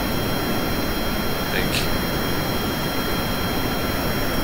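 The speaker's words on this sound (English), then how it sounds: "the first thing I noticed about this update is that the audio changed, and now my jet engines sound off" Jet engines in Kerbal Space Program give a steady, loud broadband roar with a constant high whine running the whole time, and a voice speaks briefly over it.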